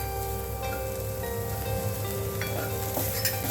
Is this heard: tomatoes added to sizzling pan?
yes